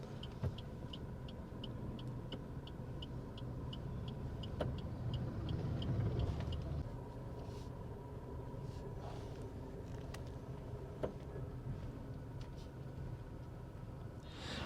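A passing vehicle fills the scene with a steady low engine rumble and road noise that swells slightly in the middle, while a faint rhythmic ticking, like an indicator, runs through the first half.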